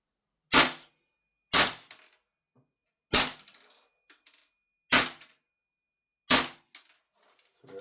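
EMG / CYMA CGS Salient Arms airsoft gas blowback rifle firing BBs during a chronograph test, five sharp, loud single cracks spaced about one and a half seconds apart, each with a brief mechanical clatter.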